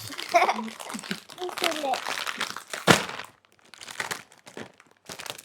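A crinkly chips bag is torn open and rustled in bursts of crackling plastic, mixed with a child's and an adult's voices talking over it at home.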